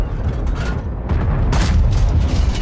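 Heavy tank cannon fire in a World of Tanks 30-vs-30 battle, deep booming blasts with rumbling tails, one shot near the start and a louder one midway.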